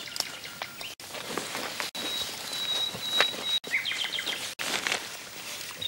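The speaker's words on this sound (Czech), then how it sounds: "Teďka teda posloucháme mládě." A black stork chick calls at its nest high in a tree, thin high chirping calls repeating over steady rain-like background hiss, with the adult birds away.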